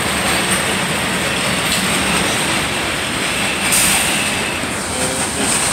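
A CSX train rolls past on the track near a track crew welding rail in McKeesport, Pennsylvania, producing a loud, continuous rumble of wagons with metallic wheel squeal and clatter throughout.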